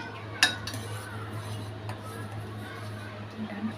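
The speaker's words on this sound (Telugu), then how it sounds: "ఇలా మరుగుతున్న పాలలో నేను కాజు, ఇలాచి పౌడర్ వేస్తున్నానండి. తర్వాత మిక్స్ చేసుకోవాలి." A spoon clinks sharply against a pot while cashews and cardamom powder are stirred into boiling milk for a sweet bread pudding, with a few softer taps over a steady low hum.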